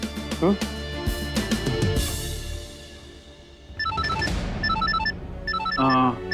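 A phone ringtone chirps in repeated electronic bursts, rising over music and voices in a busy indoor scene.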